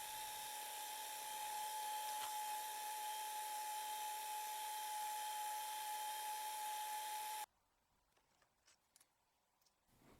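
A pointy milling bit, indexed with a digital divider, cuts division marks for a scratch-built compound slide, giving a steady, close high-pitched whine for about seven seconds before stopping, followed by faint clicks.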